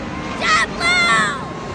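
A JetBlue airliner's jet engines give a rising, whining roar with tonal harmonics that swells twice, close and loud, while people talk excitedly over it.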